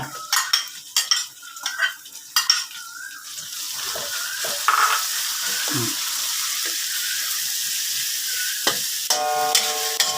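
Bird's eye chilies frying in a wok for stir-fried mussels with holy basil, a steady close sizzle under stirring scrapes and clinks, with short bursts of talk at the start.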